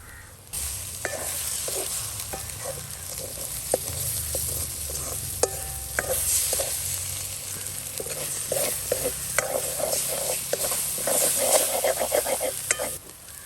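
An egg and onion mixture sizzles steadily in a pan, with a spoon scraping and stirring in irregular clicks and knocks over the constant frying hiss.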